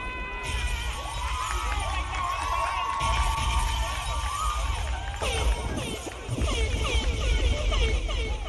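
A large crowd cheers and whoops continuously at the Kenya National Drama Festival State Concert at State House, with shouting voices rising and falling throughout, loud and sustained.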